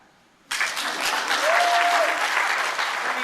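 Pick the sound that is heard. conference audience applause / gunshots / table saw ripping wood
conference audience applause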